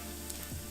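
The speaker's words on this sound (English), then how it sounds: "It's gonna do a tablespoon of olive oil, and we're gonna let that heat up." Olive oil heating in a pan for homemade pizza topping, a soft steady sizzle, faint and close, with low kitchen rumble underneath and no talking.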